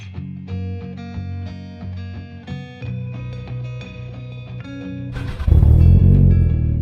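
A Toyota Corolla on a short test drive after an auto-window install, its engine note steady inside the cabin before a sudden louder surge of wind and road roar near the end, with no talking.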